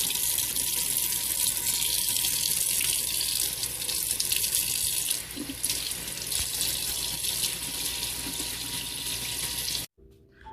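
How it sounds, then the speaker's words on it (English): Tap water runs steadily into a sink with a continuous hiss and splash, shifting slightly as aloe vera leaves are rinsed, then stops abruptly. "We need to wash the aloe vera with soap and water."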